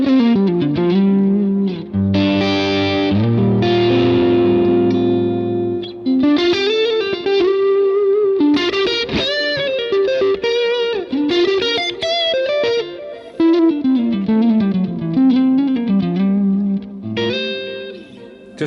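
A Vox AC30 Top Boost amp model in a Line 6 Helix, played without the boost, carries an electric guitar through chords and melodic lines with a mildly driven, chorused, reverberant tone, loud and alone, with short gaps between phrases.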